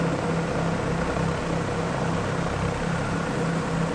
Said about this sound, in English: So yes, twin diesels in this thing.